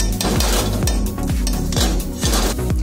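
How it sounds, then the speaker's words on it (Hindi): A metal spoon adding a spoonful of ghee to a hot kadhai on the stove, giving loud, repeated clinks and scrapes of metal on metal in a steady rhythm, with no voices. "उसमें एक चम्मच घी डालें,"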